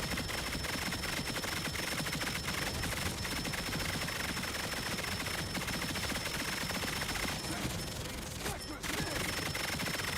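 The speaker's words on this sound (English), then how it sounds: "Headshot sounds are so satisfying." Hard-hitting gunfire in a Marvel Zombies mode of the video game Marvel Rivals rattles almost nonstop, with punchy headshot hit sounds mixed into the dense, loud barrage.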